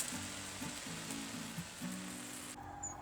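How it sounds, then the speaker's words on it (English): A pump sprayer hisses steadily while wetting the underside of a filthy awning, a continuous soft spray like light rain, with a brief low hum behind it. "take the pump sprayer and start spraying the underside of the awning"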